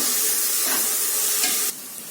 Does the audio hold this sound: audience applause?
no